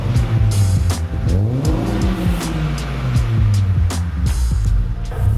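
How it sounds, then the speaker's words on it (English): A car's exhaust note burbles and swells loudly nearby, with sharp revs and a passing roar over a steady engine drone. "this is a nice exhaust note"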